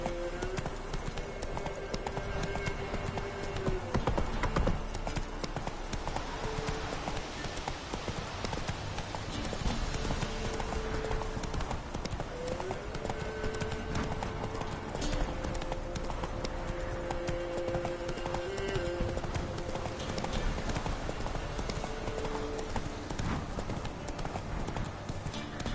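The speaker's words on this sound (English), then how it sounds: "Whoa there, Roach." Horse hooves galloping in The Witcher 3 video game, a steady rapid clip-clop rhythm running throughout at moderate volume, with game music and sparse voice in the background.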